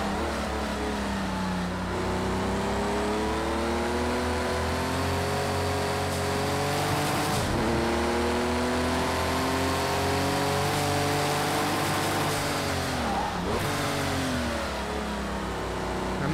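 Porsche 935/80 race car in Project CARS 2 at full throttle, its loud engine climbing through the revs in long pulls with sharp drops at upshifts, heard alone and close.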